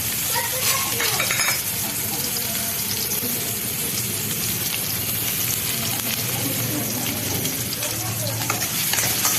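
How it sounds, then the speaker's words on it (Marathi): Chopped onion sautés in a pan with cumin, mustard seeds and curry leaves, producing a loud continuous sizzle close by, with occasional scraping of a spatula and no clear talk. "कांदा छान आपण परतून घेऊ"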